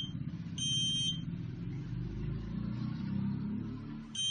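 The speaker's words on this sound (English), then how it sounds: "So now even the buzzer beeps simultaneously" Electronic buzzer on a smart walking stick for a blind person, with steady high tonal beeps at about 0.6 to 1.1 seconds and again at the end, over a loud low rumbling background.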